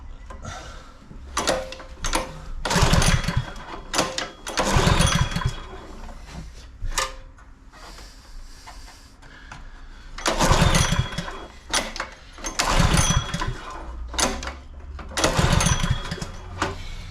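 A Honda fire pump engine is pull-started repeatedly without firing, giving bursts of cranking and rattling separated by pauses, close and fairly loud.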